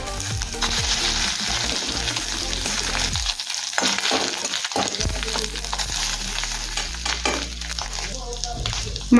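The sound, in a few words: fish roe frying in a little oil in a wok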